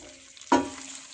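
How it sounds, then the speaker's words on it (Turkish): Semolina tipped into melted oil in a pot on medium heat for semolina halva, giving a sudden loud sizzle that settles into a steady frying hiss with stirring, no talk. "Ve orta ateşte irmiğimizi karıştırmaya başlayalım."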